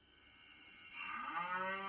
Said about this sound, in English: A cow makes the moo sound.